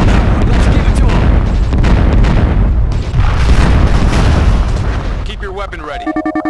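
Repeated grenade blasts and heavy booms in the real-time strategy game Twisted Insurrection form a dense, loud barrage, with unit voices calling out over the explosions before the noise tapers into electronic game tones.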